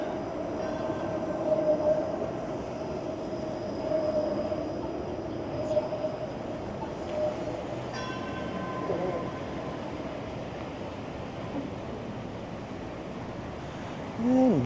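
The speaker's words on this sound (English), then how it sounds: "This is where the streetcar line ends." A Toronto streetcar rolls through its turnaround loop at the end of the line: a sustained low rumble of wheels on rails, with a faint squeal near the end and distant street sounds.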